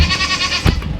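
A goat on a small family farm bleats loudly and close by in one sustained, strained call. A short thump breaks in near the end.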